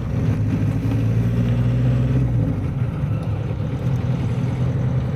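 A classic Volkswagen T3 camper van's engine drones steadily from inside the cabin, a low rumbling hum with a slight shift in pitch as it keeps driving.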